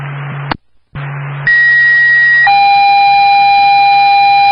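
A fire alarm tone sounds over an emergency dispatch radio channel, starting with a low buzzing tone broken by a brief gap, then giving way to loud, steady, piercing electronic tones that step in pitch.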